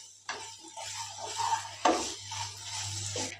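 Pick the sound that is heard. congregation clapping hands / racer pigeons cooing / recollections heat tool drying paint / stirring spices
stirring spices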